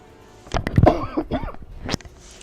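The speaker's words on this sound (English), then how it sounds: "Sorry about that, I had to cough." A person coughing during a World of Warcraft play session, a short burst of several harsh, close coughs followed by a throat clearing.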